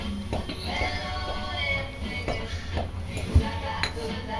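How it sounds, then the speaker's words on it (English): A knife chops cheese on a cutting board for cheese garlic biscuits, a run of light, uneven taps and clinks in a kitchen, fairly close, with faint room noise between strokes. "So we're just going to chop this up."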